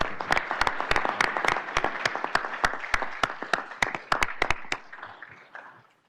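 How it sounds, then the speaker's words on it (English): A small group at a state 911 advisory board meeting claps, with sharp distinct hand claps forming a brief round of applause that tapers off toward the end. "give a quick round of applause"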